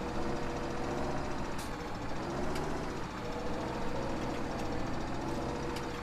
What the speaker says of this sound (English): For some reason every time I go to move the bucket the tractor sort of stutters a little bit